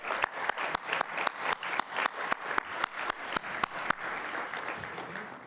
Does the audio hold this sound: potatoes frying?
no